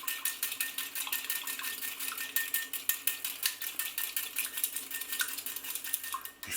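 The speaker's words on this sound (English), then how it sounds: "I'm going to use my little mini whisk to whisk that all together" A small mini whisk beats salad dressing in a bowl, producing rapid, rhythmic metallic clicks and scrapes, close and fairly quiet, in a continuous fast pattern.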